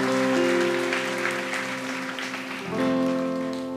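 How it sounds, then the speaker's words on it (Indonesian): Church congregation applauding during a sermon on the Book of Nehemiah, a dense steady patter of clapping with sustained musical tones underneath that swell again near the end. "Berikan tepuk tangan untuk Tuhan, haleluya"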